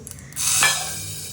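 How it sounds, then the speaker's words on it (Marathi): Curry leaves dropped into hot oil on a gas stove for tempering dal, with onion, ginger and garlic, burst into a sudden loud sizzle and spatter that holds steady and then eases slightly, close by, with no talk. "आता कढीपत्ता टाकलं की कसं सगळ्या गॅसवरती तेल उडतं"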